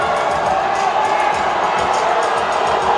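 Basketball home crowd in an MPBL arena roaring in protest at the referees, a dense, loud, sustained wall of shouting and cheering with scattered whoops, steady throughout.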